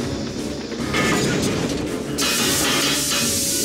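A coal-burning steam train in a movie, loud hissing steam and rumbling rail noise that swells into a bright, sustained roar partway through.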